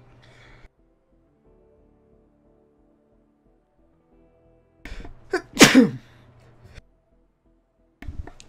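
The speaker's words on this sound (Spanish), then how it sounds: "Ay, perdón, estornudé." A person sneezes once, close and sharp, after a brief inhale, in an otherwise quiet room with faint background sounds.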